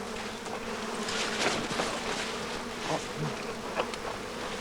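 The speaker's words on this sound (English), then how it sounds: "The midges are driving me crazy." Midges swarm close by outdoors, their faint high whine steady and wavering, with a few soft rustles and bumps mixed in.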